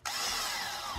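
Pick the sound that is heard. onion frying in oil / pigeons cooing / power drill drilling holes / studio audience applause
power drill drilling holes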